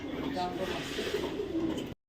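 Racing pigeons coo in low, throaty murmurs, close and fairly loud over faint background chatter, then the sound cuts off abruptly.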